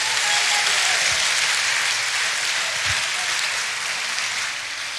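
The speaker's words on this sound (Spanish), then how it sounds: "Dale un aplauso al Rey de Reyes" A church congregation applauds during a Spanish-language service, steady dense clapping sustained throughout and fading slightly toward the end.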